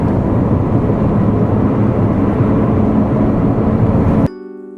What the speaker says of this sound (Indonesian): This is what a bad wheel bearing sounds like.